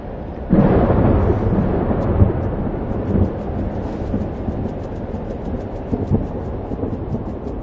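A thunderstorm in the game Life is Strange: loud, steady roar of rain and wind with rolling thunder swelling in after a sudden onset and rumbling on without a break.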